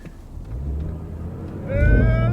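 A BMW 540i launches hard on launch control, its engine note building steadily, then rising into a louder, harmonic-rich roar near the end, heard from close inside the car.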